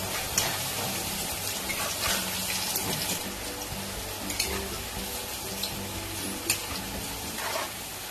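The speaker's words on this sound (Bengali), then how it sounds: "আলুগুলো দেখো লাল লাল করে ভাজা হয়ে গেছে।" Steady crackling and sizzling of potatoes with turmeric and salt frying in a pan, with a few soft clinks and scrapes over a low background hum.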